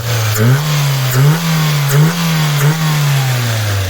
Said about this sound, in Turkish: Bu da gaz yanıtını da gösteriyor.